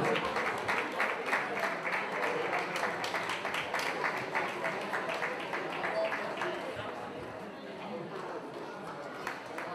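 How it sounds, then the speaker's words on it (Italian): Audience applause at an award ceremony, the Trudy Iglesias Prize 2018, a dense sustained wash of clapping that stays loud and steady before easing slightly toward the end, with some crowd noise mixed in. "Grande, un altro applauso al mio Roberto"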